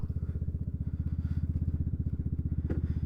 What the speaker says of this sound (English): And then we're just gonna do a quick ride.